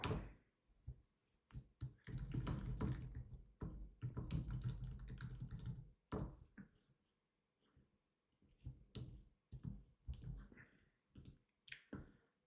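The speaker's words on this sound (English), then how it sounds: "Let me just type in HR." Typing on a computer keyboard, heard as bursts of rapid, close keystroke clicks separated by short pauses.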